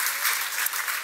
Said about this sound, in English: Give them an amazing round of applause